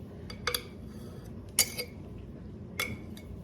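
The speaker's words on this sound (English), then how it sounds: "let's give that a stir" Utensil clinking against a pot as cream cheese, cut up and softened, is stirred into chicken salsa verde soup; three separate light metallic clinks over a low background, no talking.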